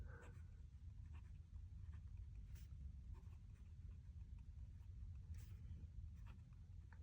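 A vintage Aurora 88 fountain pen nib moving across paper, a faint dry scratching with short strokes over a low steady background rumble, close and quiet, no speech.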